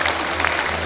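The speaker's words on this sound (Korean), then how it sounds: "여러분 다시 한번 큰 박수 부탁드리겠습니다." Crowd at an admission ceremony applauds, a short steady wash of clapping with a low hum underneath and no clear individual claps.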